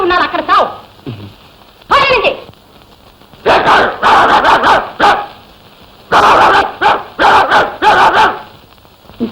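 A dog barks in loud, sharp bursts, some single and some in rapid clusters, close by, with a voice speaking briefly at the start.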